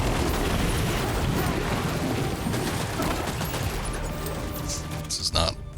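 Sustained barrage of loud gunfire and explosive booms in the video game Death Stranding 2, dense and continuous with game music and effects layered over it.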